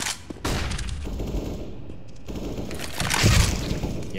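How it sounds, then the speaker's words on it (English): A flashbang grenade goes off in a first-person shooter game, a loud burst among rapid gunfire and explosive game effects, with no voices over it. "Throwing flashbang."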